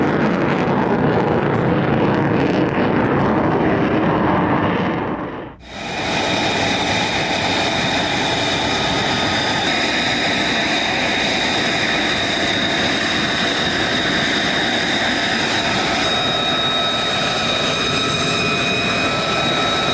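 A military vertical takeoff and landing jet aircraft produces a loud, steady jet roar. A sharp cut leads into a sustained whine with a strong high-pitched tonal component, and no voices are heard.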